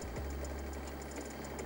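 A sewing machine runs at full speed on a stretch straight stitch with a stretch needle, a steady rapid mechanical whir and hum that kicks up just after the start and holds evenly.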